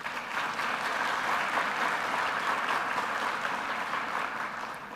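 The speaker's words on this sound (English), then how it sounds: "Let's give a round of applause." Audience applause at a fall college convocation, steady dense clapping from a large crowd, holding level for several seconds and then beginning to taper off at the end.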